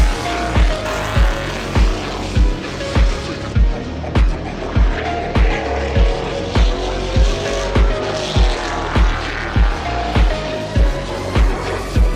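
A super late model race car circles an oval track, heard from inside as a steady, loud engine drone with a regular, pulsing thump repeating about every half second; no one speaks.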